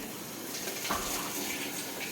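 A Whirlpool washing machine runs a small amount of water into its drum, a steady soft rushing of water flowing in throughout, fairly close with no talking.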